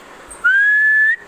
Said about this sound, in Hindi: अभी सीटी बजा के दिखाएगा